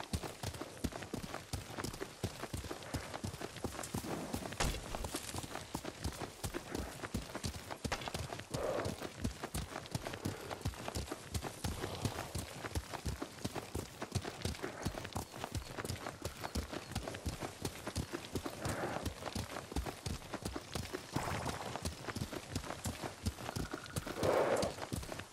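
Horse hoofbeats as a rider travels on horseback in the Ghost of Tsushima video game, a continuous rhythmic clip-clop at riding pace that carries on for the full stretch with no talk over it.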